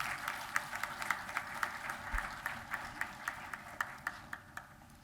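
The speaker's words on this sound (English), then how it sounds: "Let's welcome him with a big round of applause." A crowd applauding, steady clapping with a few sharper claps standing out, moderately distant and fading slightly toward the end.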